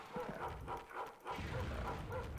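A dog barks repeatedly in a quick, evenly spaced rhythm in dog mode in Rise of the Triad, moderately loud over a low background rumble.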